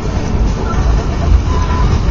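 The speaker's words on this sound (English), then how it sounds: "Another Union Pacific coal train goes here." A Union Pacific coal train rolls past a railroad crossing on N Sylvania Ave, a loud, continuous low rumble with steady rolling noise close by.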